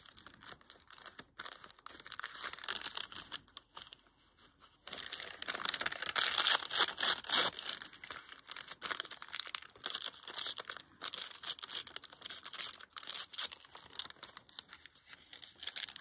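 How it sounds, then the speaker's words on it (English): Parchment paper crinkles and rustles up close as it is handled, with bursts of crisp crackling and short quiet pauses between. "I think I'm going to just put some parchment paper"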